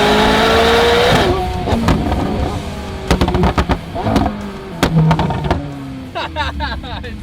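A McLaren 600LT with an aftermarket exhaust roars loudly as it revs, then a series of sharp crackles and pops follow as it drives, with brief talk in between.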